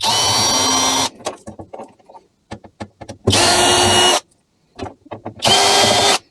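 A power screwdriver backs screws out of a Gigabyte GA-MA78G-DS3H motherboard in three loud whirring bursts, with small clicks and handling noises of loose screws in between.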